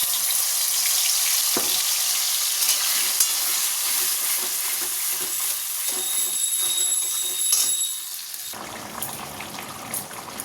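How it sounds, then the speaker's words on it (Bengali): Tomato and green chili paste frying in oil with panch phoron, a close, steady sizzle with stirring scrapes, then the hiss drops sharply near the end. "এবার টমেটো আর কাঁচা লঙ্কা বাটাটা দিয়ে দেবো"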